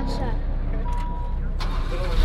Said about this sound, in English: Gonna start the car here.